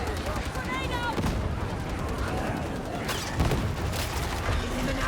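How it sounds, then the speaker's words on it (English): Dense gunfire and grenade explosions in the video game Warhammer 40,000: Darktide, with rapid shots, booms and mechanical clatter layered continuously and loud, with voices talking over the combat. "I'm throwing a grenade in front of you."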